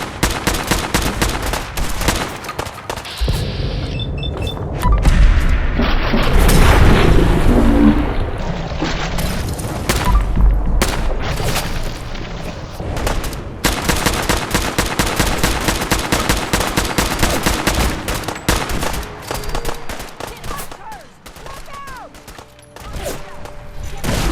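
Rapid bursts of gunfire crackle through a Fallout 4 battle, loud and nearly continuous, with heavy booms and a volley of shots layered together and occasional shouted voices in the mix.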